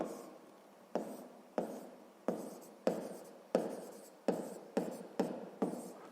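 Chalk or marker strokes on a board come as nine or ten crisp, evenly spaced scraping bursts, each starting sharply and fading, close and clear in a quiet room.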